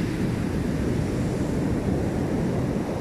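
Large ocean waves roll and break on a beach in winter, a constant loud rumbling surf with wind buffeting the microphone and no voices.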